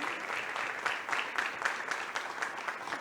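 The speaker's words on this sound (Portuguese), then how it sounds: "Então, um aplauso de boas-vindas." A church audience at a Portuguese-language talk claps in welcome, a dense patter of applause from many hands in a room, steady and moderately loud for the whole few seconds.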